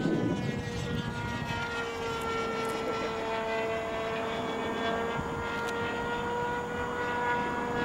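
Cermark F-20 model jet on its maiden flight, a continuous whining turbine tone with a steady pitch, drawn out and moderately loud as the aircraft passes overhead.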